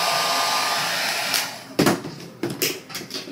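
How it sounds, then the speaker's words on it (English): A blow dryer runs close and loud with a steady airy roar while drying Ebin spray on wig lace, then its pitch wavers and lurches as it is moved, with a few thumps near the end. "using my blow dryer to let the spray dry down"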